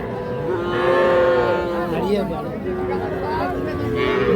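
A calf at a cattle market lows several times in drawn-out, wavering moos, loud and close, over a steady hum of market chatter and voices.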